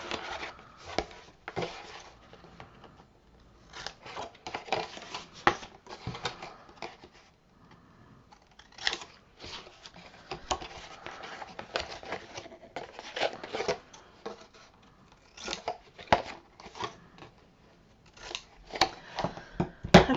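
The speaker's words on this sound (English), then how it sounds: "So you put your scissors up against the side there" Scissors snip and trim chipboard for a Christmas box mini album craft, giving irregular bursts of crisp cutting and scraping sounds with short pauses between them, heard close up and fairly quiet.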